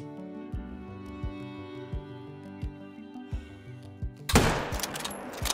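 Single sharp rifle shot fired at a kangaroo in a hunting video game, heard loud and close near the end after a stretch of quiet rhythmic background music.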